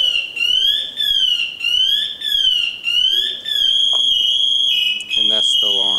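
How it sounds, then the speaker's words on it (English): A firefighter's PASS device alarm sounding in a fire house, a loud piercing electronic tone that warbles up and down in repeated sweeps before switching to a steady shrill beep, with people talking alongside. "this will alert and let my other fellow firefighters know where I'm at,"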